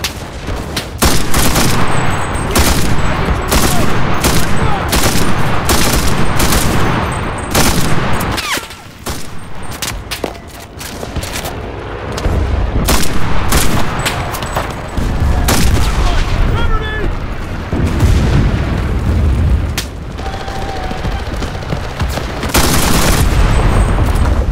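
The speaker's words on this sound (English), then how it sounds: "Artillery! Fire at the square!" Artillery barrage and heavy gunfire in the World War II shooter Enlisted during a D-Day beach invasion: dense, loud, near volleys of rifle and machine-gun shots crackle nonstop, punctuated by deep booming impacts, with faint voices buried underneath.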